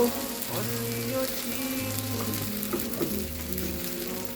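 An egg fries in a pan over low heat, giving a steady, even sizzle that runs the whole time with soft crackles, close by and with no voices.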